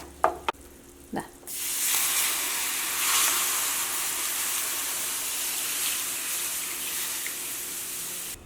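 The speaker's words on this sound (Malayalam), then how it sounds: "ഇനി ഇതിലേക്ക് ഞാനിവിടെ 2 കപ്പ് പാലാണ് ചേർക്കാൻ വേണ്ടിയിട്ട് പോകുന്നത്" Two cups of milk poured into roasted maida flour in a hot pan for a sauce, a sharp sizzle bursting up after a few soft knocks and settling into a steady hissing bubble.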